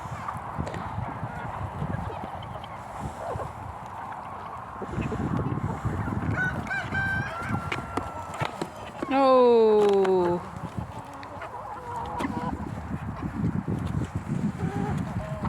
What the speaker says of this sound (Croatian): Kokice se zdravo hrane pa će biti zdrave.